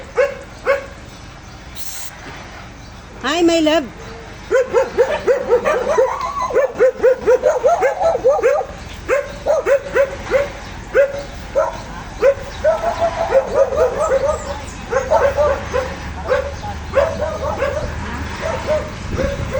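Dogs bark, yip and whimper in a busy run of close, repeated calls that go on for most of the stretch, with people talking over and between them.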